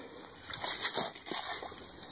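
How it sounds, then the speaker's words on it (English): An ice scoop clears slushy ice chips out of a hole drilled through 20 inches of lake ice, giving a close, wet scraping and sloshing over a couple of seconds. "use a nice scoop here just to get the ice chips out so you have nothing but clear water"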